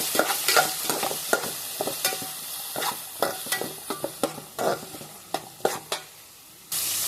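Onions and tomatoes fry in a pan while a spoon stirs them, making a steady sizzle broken by repeated scraping strokes, close and fairly loud, with no talking.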